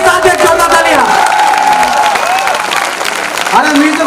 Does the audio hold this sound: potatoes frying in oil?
no